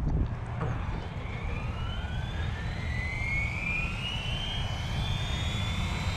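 A radio-controlled 3D helicopter set up tamely, its rotor spooling up: a steady, loud mechanical whine that climbs gradually in pitch over a constant rushing roar, with no voices.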